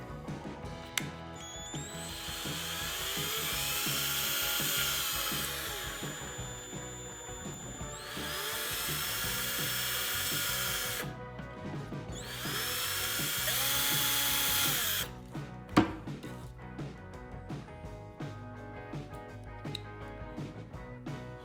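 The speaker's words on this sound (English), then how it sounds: "and then you drill down through these holes." A high-pitched power drill whines in three sustained bursts with short pauses between, drilling through a plastic climate-control knob from a 2002-2005 Ram up close, followed by clicks and handling noises.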